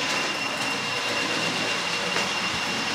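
A model railway locomotive runs along its track at a fair pace, giving a steady rolling rush with faint clicks and a brief squeal, no voices heard.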